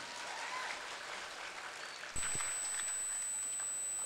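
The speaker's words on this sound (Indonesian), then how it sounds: "Tepuk tangan untuk kita semua." Applause rises from an audience at a new-student campus orientation event, a steady wash of many hands clapping heard from a moderate distance, with a sharp tone cutting in partway through.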